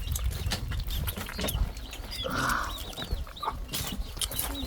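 A mother hen clucks in a rural outdoor setting during wild honey foraging, with a brief louder call midway over steady background noise and scattered clatter.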